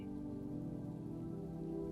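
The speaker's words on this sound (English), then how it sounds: "The rain's rhythm receded behind the wooden door, transforming into a gentle background lullaby." Gentle rain patters softly and evenly under a steady, low sustained tone, muffled as if heard from indoors behind a wooden door.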